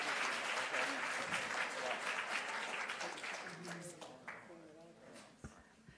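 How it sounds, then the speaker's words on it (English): An audience at a governor's health care announcement applauds with dense, steady clapping that gradually thins and fades out, while voices talk faintly near the end. "No need to be quiet. You may applaud."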